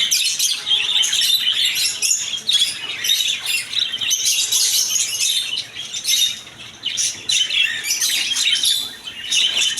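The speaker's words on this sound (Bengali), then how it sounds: "তার নিচে দেখে পেয়ে যাবেন জাপানিজ বজ্রিকা পাখি" Dense, busy chirping and twittering of many caged budgerigars at a market bird shop, continuous and lively with overlapping high calls, close by and fairly loud.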